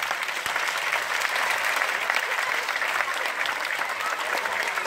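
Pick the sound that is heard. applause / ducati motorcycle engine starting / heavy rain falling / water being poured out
applause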